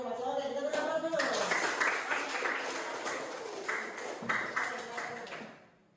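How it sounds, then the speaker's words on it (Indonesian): A classroom audience claps after a group presentation, producing a sustained patter of applause under a voice, with a tonal ping at the start that fades out near the end. "kita beri aplaus dulu"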